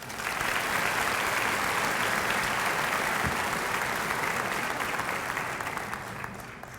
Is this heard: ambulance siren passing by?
no